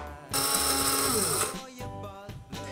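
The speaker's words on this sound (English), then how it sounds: "first you have to grind some beans." Coffee beans are ground in an electric grinder, producing a loud, close whirring burst of about a second that then winds down, followed by a couple of short pulses and faint background voice.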